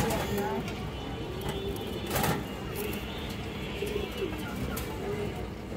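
Pigeons, including Indian high flyer Kaldam birds, coo softly in a pen, low repeated calls spread through a busy background with a few sharp clicks.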